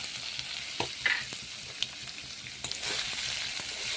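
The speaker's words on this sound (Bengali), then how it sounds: "ভালো করে নেড়ে নেড়ে কষিয়ে নেবো।" Banana stem and chickpeas fry and get stirred in a pan, spiced with chilli powder, turmeric, roasted cumin and coriander, salt. Steady close sizzle with scattered scraping stir strokes and small pops throughout, no voices.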